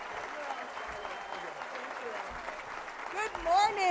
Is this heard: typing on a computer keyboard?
no